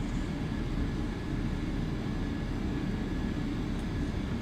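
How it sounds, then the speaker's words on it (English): A jet airliner's thrust reversers roar during landing in Microsoft Flight Simulator 2024, a dense, steady rumbling rush of engine noise that stays constant throughout. "we now have the reversers working"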